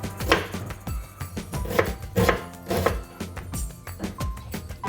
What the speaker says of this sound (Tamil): இப்போ தாளிப்புக்கு நான் வந்து பெரிய வெங்காயத்தை வந்து பொடியாக கட் பண்ணிக்க போகிறேன்